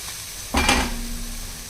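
A brief burst of sizzling as salt goes into frying ash gourd curry with poppy seeds in a pan, heard once at close range over a steady low kitchen hiss, with no talking.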